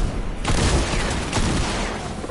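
A grenade blast in Fortnite, a loud close burst of noise that swells twice in quick succession and then rumbles off.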